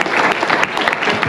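An audience claps during a prize ceremony for top students at a government inter college in Manila, India. The applause is a brief burst of loud, dense, close clapping.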